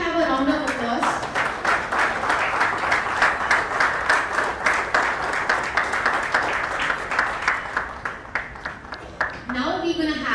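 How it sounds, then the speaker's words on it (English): Steady, dense applause from an audience at an awards ceremony at a summit expo in India, continuing at full strength for about ten seconds with brief voices at the start and end. "Can we have a round of applause?"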